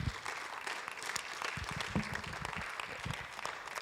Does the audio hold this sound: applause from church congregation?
yes